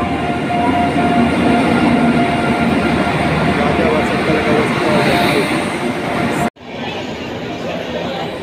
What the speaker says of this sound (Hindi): अपनी ट्रेन डिपार्ट कर रही है लुधियाना जंक्शन